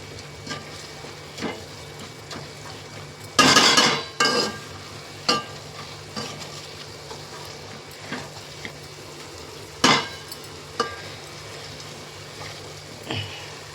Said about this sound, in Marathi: तर हे बघू शकता स्मॅशरने चांगलं शिमला मिरची म्हणा हे सगळं स्मॅश करायचं आहे